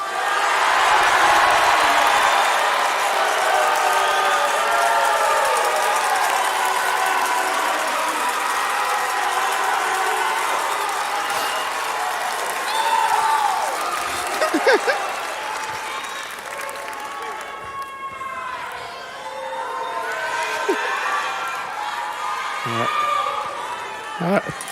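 A graduation crowd at a culinary school commencement applauds and yells names, with loud clapping and shouts that taper into scattered cheers as a voice begins speaking.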